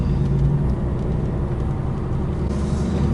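A vehicle pulls off gravel and back onto the road, heard as a continuous, fairly loud engine and rolling-noise drone that stays even throughout.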